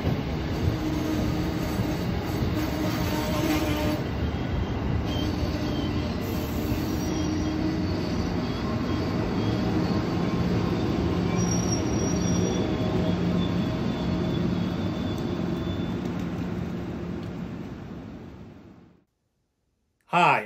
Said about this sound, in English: to check out a nighttime train